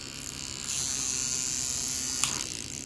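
A small electric motor runs in a ringer circuit with a steady close buzzing whir that grows slightly louder partway through and has a brief rattle near the end.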